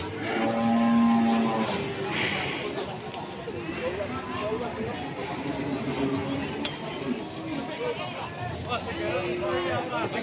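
Limousin cattle low and moo at the Pati Wage cattle market, with one clear moo early on. Livestock shuffle and crowd babble fill the background, and people talk nearby throughout.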